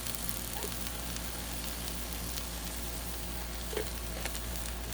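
Canned garlic sizzles on a hot griddle in a seafood stir fry, a steady dense crackle and hiss heard close up with faint clicks of a utensil and no speech.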